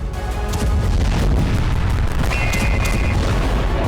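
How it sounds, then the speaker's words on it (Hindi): Explosions and air-defence missile fire at night in Islamshahr, southwest Tehran, Iran, a continuous loud rumbling barrage of deep booms with crackling noise and no clear gaps, heard from a distance. "दक्षिण पश्चिमी तेहरान के इस्लाम शहर में एयर डिफेंस से मिसाइलें दागी जा रही थी, धमाकों की आवाज आ रही थी"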